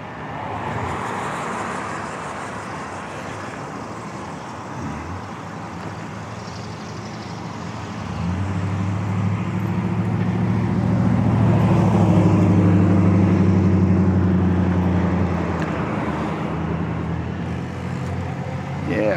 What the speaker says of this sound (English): And you'll see there's a lot of traffic.